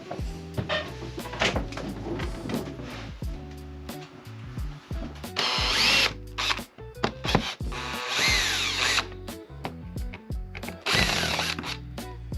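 A power drill removes screws from an old project piece in a series of whirring bursts. Short spins alternate with longer ones, mixed with clicks and knocks of handling, close and fairly loud.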